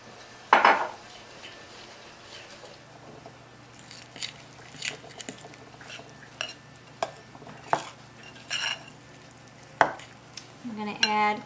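Spoon mixing scone cookie dough of flour and oats in a bowl, with a string of scattered clinks, scrapes and soft squishy stirring sounds at close range, no talking.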